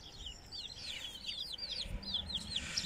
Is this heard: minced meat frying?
no